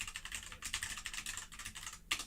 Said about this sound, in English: Here, I'll type it for you.